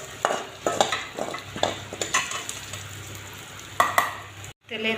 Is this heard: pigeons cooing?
no